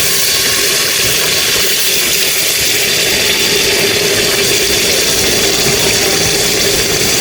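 Water poured into a hot pan of spices to start a chicken gravy sizzles and hisses loudly and steadily, a dense bubbling roar that stays strong throughout with no pause.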